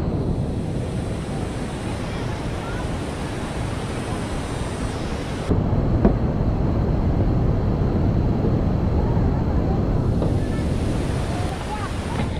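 Tat Yueang waterfall pouring over a high cliff, a steady loud broadband roar of falling water and spray that holds unbroken throughout, with wind buffeting the microphone.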